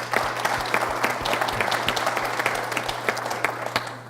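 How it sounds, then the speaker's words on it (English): An audience applauds a journalist at an evening LeMieux Center event with Bob Graham, a steady wash of many hands clapping with a few sharper individual claps standing out, sustained and fairly close throughout. "Please give him a round of applause."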